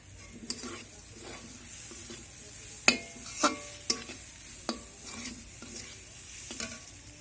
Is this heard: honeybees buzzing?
no